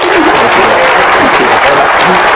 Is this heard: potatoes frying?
no